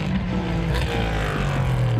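Prototype race cars competing in the 2019 Slovakia Ring 6-hour race, with a loud, continuous engine roar that swells slightly as they run close by.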